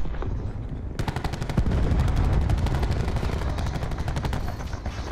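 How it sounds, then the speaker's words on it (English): Rapid gunfire rattles in Call of Duty Black Ops 4 multiplayer on the Frequency map, a dense, loud stream of shots that starts abruptly after a second and continues steadily to the end over a busy game background. "this fucking dude with this fucking shotgun is pissing me off"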